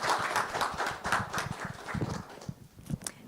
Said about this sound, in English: Final round of applause for Adele and her project Mayungan Tea.